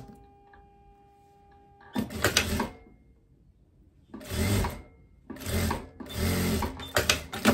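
A sewing machine stitching a teddy coat seam joining the back to the lining, in loud bursts of rapid running stitches separated by brief pauses, close and without talk.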